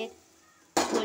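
Spice mixture being stirred in a cooking pot for a thin Bengali curry, a brief faint scrape followed by a sudden loud burst of clattering, sizzling pot noise near the end.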